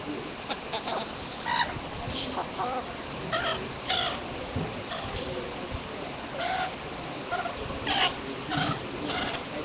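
Silver Phoenix hens clucking at a county fair poultry show, repeated short clucks and calls from several birds over a busy background murmur.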